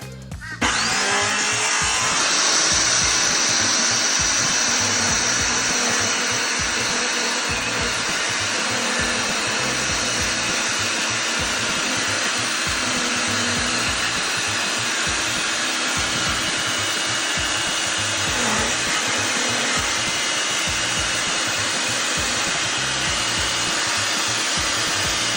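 A circular saw runs a long, steady cut through timber along a straight edge, loud and continuous with a high whine and rasping wood noise throughout, with no voices.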